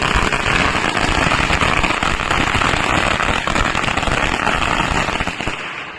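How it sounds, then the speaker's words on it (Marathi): A string of firecrackers bursts in celebration of a court ruling on bullock cart races, a loud, dense, unbroken crackle of rapid pops for about six seconds that fades slightly at the end, with no talk over it. "त्याबद्दल आम्ही आता फटाक्याची माळ लावून सगळ्यात आनंद साजरा करणार आहोत."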